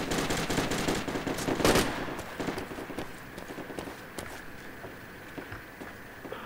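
A PKM machine gun fires in the Project Reality video game during an IDF infantry match: rapid, steady bursts of gunfire that are loud at first, then continue as dense, sustained rattling at a slightly lower level.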